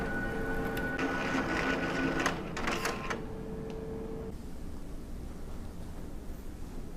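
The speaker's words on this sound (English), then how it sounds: "The printer will now pull the adhesive card in and run it through the length of the printer and up into the vertical option." A card printer pulls an adhesive cleaning card through its length and up into a vertical option, a close whirring and motor hum with a few mechanical clicks and clunks, then a quiet steady hiss.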